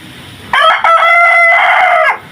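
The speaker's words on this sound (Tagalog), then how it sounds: "O yung puro kong Rhode Island Red na barako." A purebred Rhode Island Red rooster crows once, loud and close, a sustained harmonic call lasting about a second and a half after a faint lead-in, with no voices.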